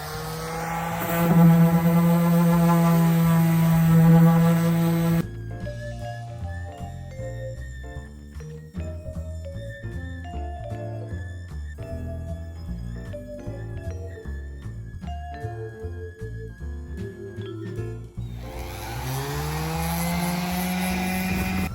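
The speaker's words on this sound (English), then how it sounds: "I'm using 80 grit sandpaper on this palm sander here" A palm sander with 80 grit sandpaper sanding furniture for restoration, a loud steady motor whine that runs briefly, gives way to a different tonal stretch, then returns near the end.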